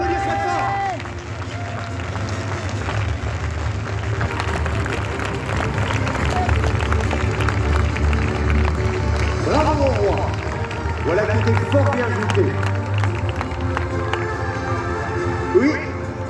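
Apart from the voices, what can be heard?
audience applauding the king after a tournament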